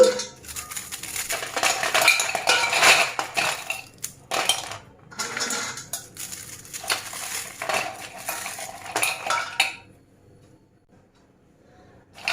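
Dry crackling and snapping as crisp, cooled fried jantikalu snacks are broken by hand into small pieces for besan laddu, with clinks and rustles, close up, continuing in bursts before falling quiet near the end.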